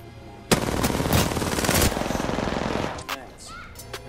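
Automatic gunfire rattles in Apex Legends, a loud burst of rapid shots lasting a couple of seconds followed by a few scattered pops, with a voice talking over it.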